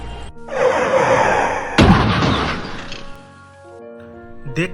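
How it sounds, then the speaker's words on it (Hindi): A cartoon taxi crashes into a car: a loud, sustained smashing rumble with a sharp hit partway through, then the noise fades into a ringing tail. "मेरी गाड़ी को टक्कर मार दिया"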